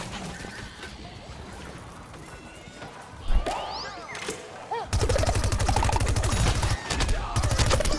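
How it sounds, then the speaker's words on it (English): Pea Gatling from Plants vs. Zombies: Battle for Neighborville firing a rapid, sustained stream of loud repeating shots that starts partway through and carries on, with crashes and game noise mixed in and some talk in the background. "the P Gatling is so good"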